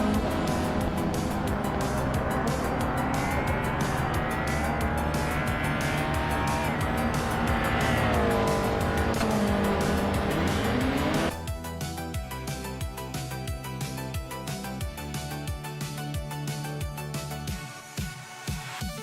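Race cars in a video game race at Rio de Janeiro (Mini Reverse) scream past with loud, steady engine roars and rising and falling pitch, then shift to a choppier mechanical rumble with skids near the end.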